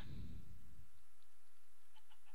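A Minecraft chicken in a coop gives a few soft, brief clucks, faint and isolated against near silence.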